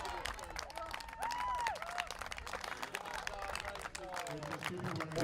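Applause as runners cross the finish line at a race past Old College, sustained clapping and crowd noise at moderate volume mixed with voices talking over it.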